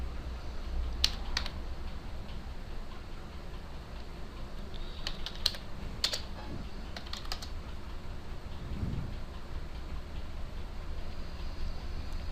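Computer keyboard typing while filling in an account-creation form, with scattered light key clicks in small bursts over steady background hiss, fairly close but soft.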